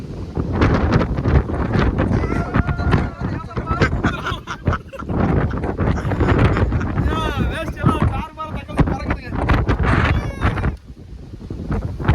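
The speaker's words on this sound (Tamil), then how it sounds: "பாருங்க காற்று எப்படி அடிக்குது மட்டும் பாருங்க." Loud wind roars and buffets the microphone throughout, with a voice talking underneath the rumble, riding a Yamaha R15 motorcycle toward Munnar in the rain.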